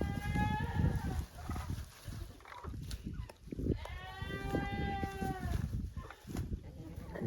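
Goats on a farm bleat several times, wavering calls standing out among rustling and general yard noise, near and fairly loud.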